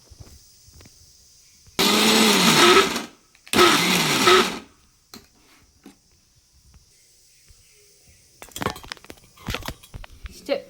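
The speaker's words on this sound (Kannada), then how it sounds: "ಹಾಗಾಗಿ ಮಿಕ್ಸಿ ಜಾರ್ಗೆ ಹಾಕೋಣ" A mixer grinder coarsely grinds garlic in two loud, steady bursts of about a second each, separated by a short pause, followed by quieter clinks and handling sounds.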